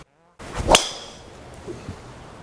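One sharp, crisp metallic crack of a Callaway Mavrik Sub Zero driver hitting a golf ball, close by, followed by a short ringing tail and quiet outdoor background.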